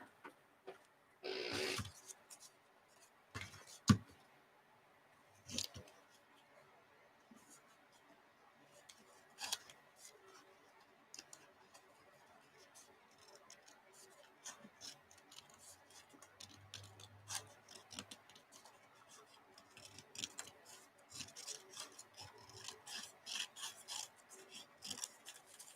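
Scissors snip steadily through paper while a pattern figure is cut out, a long run of close, soft cuts and rustles with a few louder clicks and brief speech between.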